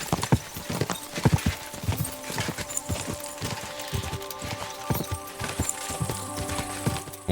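Horse hooves clop rhythmically in the video game Kingdom Come Deliverance 2 as a mount moves quickly, with steady, fairly close hoofbeats and a brief whinny-like tone near the end.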